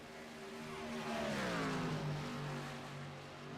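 Truck engine in a racing video game, a sputtering motor droning and rising in pitch then sliding back down, steady and fairly close with no talking.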